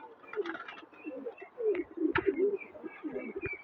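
Pigeon chicks cooing, several soft, low throaty coos and murmurs overlapping in a quiet loft, with a few faint chirps mixed in.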